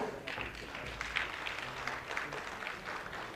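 A crowd at a government tablet distribution event for primary schools claps in continuous, moderately distant applause, with a voice faintly audible beneath it.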